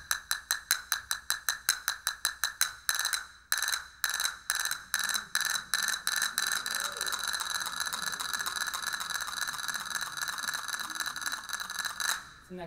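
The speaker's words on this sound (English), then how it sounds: "this rolling sound is created by striking the castanet 5 times" Castanets playing a rapid carretilla roll, a quick string of crisp clicks in regular bursts that blur into a continuous rattling roll, close and clear.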